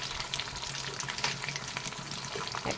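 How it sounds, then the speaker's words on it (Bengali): Pointed gourd (potol) pieces fry in hot oil with a steady, close sizzle and crackle, broken by a few light stirring clicks and brief watery pops, with no talking. "পটলগুলোকে ভালো করে ভেজে নেব।"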